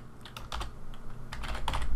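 Quick bursts of typing on a computer keyboard, close and crisp, with clustered keystrokes and short pauses over a couple of seconds, no voices.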